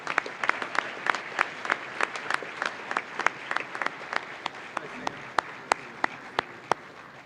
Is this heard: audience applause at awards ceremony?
yes